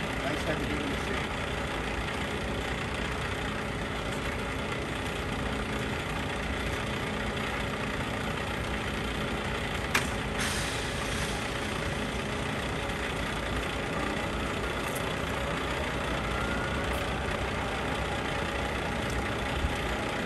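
A LeBlond 3220-34 heavy duty engine lathe motor runs smoothly, producing a steady, even mechanical hum with no surges, continuous from start to finish with a single faint knock partway through.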